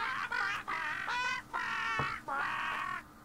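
Fowl squawk in the Elroy Goes Bugzerk video game, four honking, goose-like calls in a row separated by short gaps, moderately loud, with no talking over them.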